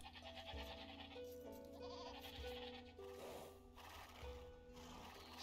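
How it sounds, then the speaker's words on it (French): Goats bleating in the strategy game Age of Empires II, several short bleats scattered over busy game sounds and music, faint overall. "Bon, là, en l'occurrence, c'est plutôt des chèvres."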